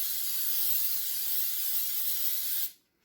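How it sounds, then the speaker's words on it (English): A steady aerosol baking spray hisses continuously onto the bottom of a pan for under three seconds, close and fairly loud, then cuts off abruptly into silence. "So we'll go ahead and just spray the bottom of it."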